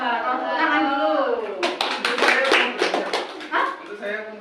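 Classroom clapping during a microteaching lesson, a short burst of hands clapping together that rises midway through, mixed with children's voices and chatter.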